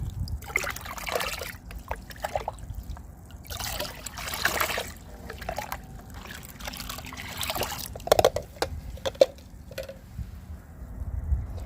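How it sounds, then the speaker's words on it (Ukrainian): Liquid plant fertilizer solution for lavender seedlings trickles and splashes as it is poured into a bucket, in several uneven pouring bursts close by. "цей розчин я переливаю вже у відро і тут уже змішую"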